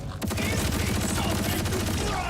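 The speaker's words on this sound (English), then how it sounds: "let me just empty the mag" Rapid sustained gunfire as a magazine is emptied in Borderlands 4, a dense unbroken burst of shots running loud and close for about two seconds under a low rumbling game backdrop.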